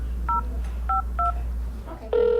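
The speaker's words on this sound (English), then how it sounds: "Lynn Poland spends 2 hours calling strangers" Touch-tone telephone dialing: several short, evenly spaced keypad beeps at moderate volume over a low background hum, followed by the start of a steady ringing tone.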